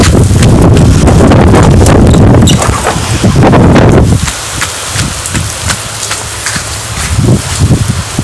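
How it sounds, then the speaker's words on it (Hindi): Heavy rain and strong wind batter a village washroom door, a loud dense roar of rain and gusts that eases partway, followed by scattered knocks and thumps of the rattling door. "अचानक से बारिश होने लगी है, आप देख ही सकते हो काफ़ी तेज बारिश हो रही है।"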